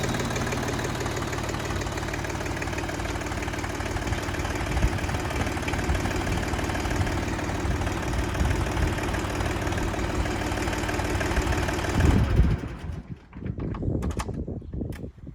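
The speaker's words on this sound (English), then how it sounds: "starting the tractor after running it out of fuel is to make sure you've got it at full revs" A Siromer 304 compact tractor idles after being refuelled, its diesel engine a steady, loud, knocking rumble close by for about twelve seconds before the sound drops away and breaks up into a few rattles.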